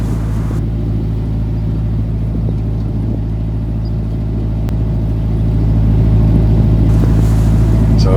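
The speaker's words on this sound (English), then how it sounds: "So I gave it some revs." A boat engine revs while turning near a riverbank: a steady, close, low-pitched droning rumble that swells noticeably louder in the last couple of seconds, with no voices.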